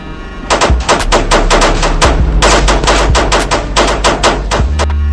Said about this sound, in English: So at 3 in the morning, a drive-by shooting happened.